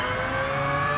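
Mazda RX-Vision GT3 Concept race car in Gran Turismo Sport, its engine held at a steady high-revving, buzzy drone, loud and continuous with no talking.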